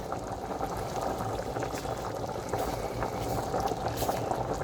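Shrimp pasta sauce simmering and thickening in a pan, a steady close bubbling sizzle that holds at an even level throughout.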